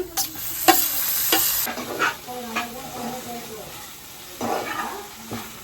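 Coriander powder, mutton masala, ginger-garlic paste, fresh and dried coconut and tomatoes stirred and frying in a pan, with soft sizzling and scraping strokes near and clear.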